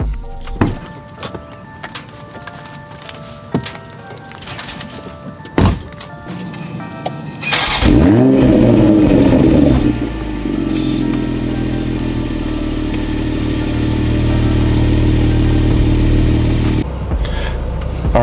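A 2020 Toyota Supra, first heard through clicks and thunks from inside the cabin, then its engine starts with a sharp rising rev and settles into a loud, steady idle before a final thump, with no talk.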